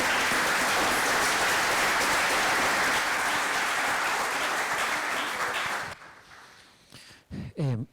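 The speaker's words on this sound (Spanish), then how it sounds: "Recibamos de nuevo con un aplauso a Víctor Gaviria." Audience at a lecture event applauding, dense and sustained clapping for about six seconds before cutting off, followed by brief talking.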